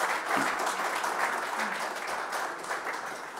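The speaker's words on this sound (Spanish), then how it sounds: "gracias por los aplausos" Steady applause from a conference audience after a technology and research talk at a Peruvian mining convention, moderately loud and continuous with no speech over it.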